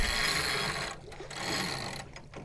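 The rudder blade of a Bestevaer 36 sailing yacht being lifted by its tiller gives a loud mechanical rattle and grind up close, then a pause and a few softer clunks.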